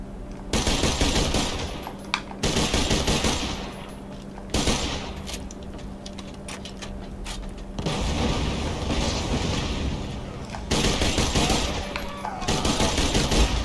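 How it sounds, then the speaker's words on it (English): Repeated bursts of rapid gunfire from a multi-shot sniper rifle in Borderlands 2, loud, close and chattering, with brief gaps between volleys and no talk. "I was not expecting it to do multiple shots"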